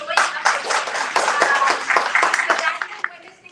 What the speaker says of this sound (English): you all should give a clap to yourself for showing up